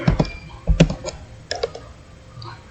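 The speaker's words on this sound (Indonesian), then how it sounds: "Kemudian kita enter, kita ketik lagi elif" Someone types on a computer keyboard while coding in Google Colab, with close, irregular clusters of clicking keystrokes separated by short pauses and no voice.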